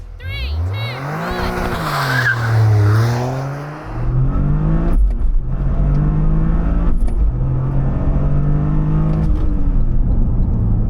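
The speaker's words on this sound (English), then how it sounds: "Now let's see how quick the Morizo edition of the GR Corolla is from 0 to 62 miles an hour" A Toyota GR Corolla Morizo edition launches hard from a standstill to 62 mph, its engine rising loudly through gears with sharp shift dips, close and continuous, with no one talking over it.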